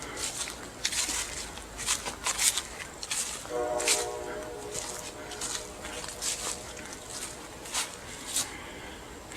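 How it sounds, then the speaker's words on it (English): A train horn sounds in the distance during a night predator hunt with thermal vision, a faint sustained tone heard outdoors among sharp nearby rustles and bumps, with a dog barking faintly. "The train's honking back"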